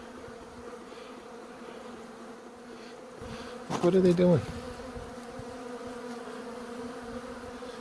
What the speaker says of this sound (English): And these bees are everywhere.